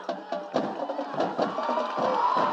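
A high school student section cheers at a football game, a dense crowd of young voices whooping and shouting in overlapping bursts, loud and sustained.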